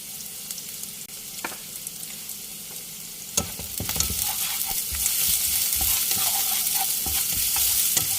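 Shallots frying in oil until golden for a Pad Thai sauce over medium heat, starting as a quiet hiss and swelling into a louder, continuous sizzle with stirring clatter, close to the pan.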